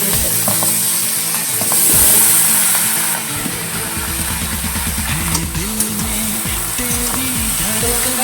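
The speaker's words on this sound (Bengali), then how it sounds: "এর জন্য আমি একটু পেঁয়াজ আর একটু রসুন ফোড়ন দিয়েছি।" Onion and garlic tempering sizzle in a frying pan for a fish-head and Malabar spinach dish, a loud continuous hiss with rhythmic scraping and clattering from stirring throughout.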